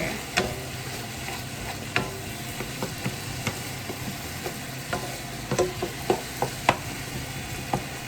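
Ground meat browns in a pan with vegetables, a soft steady sizzle broken by a series of sharp spatula scrapes and taps as it is stirred and broken up, without talk.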